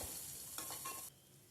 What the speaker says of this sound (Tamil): இது நல்லா கண்ணாடி பதம் வர வரைக்கும் நல்லா வதக்கி விடுங்க.